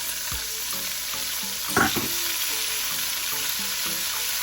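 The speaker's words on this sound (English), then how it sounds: "saute your vegetables in there" Chopped vegetables sizzle and sauté in a hot pan, a steady frying hiss with the occasional clink and scrape of a stirring utensil, close up and without speech.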